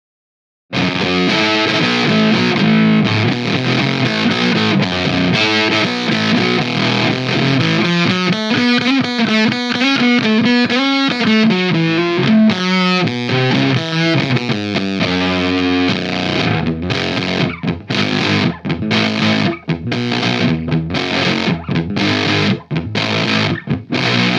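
Electric guitar driven through a Death By Audio Absolute Destruction distortion pedal, a loud, thick, fuzzy wall of sustained chords with warbling modulated passages, then chopped into rapid stuttering bursts toward the end.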